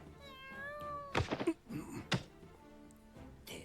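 A cat meows with clear, drawn-out harmonic cries in the opening second, followed by a few soft thumps and knocks nearby; no one speaks.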